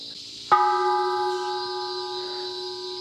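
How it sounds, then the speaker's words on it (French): A bell struck once at Ton Yuan in Thailand, a single clear metallic strike ringing out with a long sustained, slowly fading hum over a steady outdoor background. "Est-ce que vous pensez que j'ai mérité de faire sonner la cloche?"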